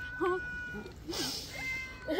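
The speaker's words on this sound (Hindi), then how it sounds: "ये छोटी बिल्ली" A small black kitten gives a few short, high meows close by, with a soft voice and a brief hiss of noise between them.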